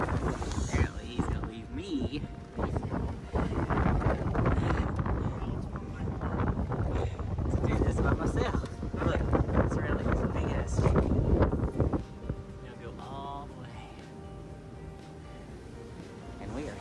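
Outdoor wind buffets the microphone in a loud, continuous rumble for about twelve seconds, then drops to a calmer, quieter background, with a person talking over it.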